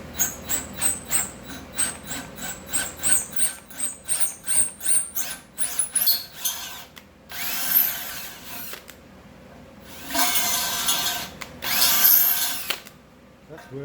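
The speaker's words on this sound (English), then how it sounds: "Now we're gonna tap through them all" Power tapping of threads through welded nuts and pipe for a forge burner support: a close, loud run of rapid, evenly spaced whirring bursts, then a few longer grinding passes separated by short pauses.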